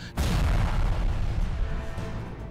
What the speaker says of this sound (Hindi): हिंदुस्तानी फौज का मुकाबला करने में नाकाम पाकिस्तानी आर्मी छिपकर दागती है रॉकेट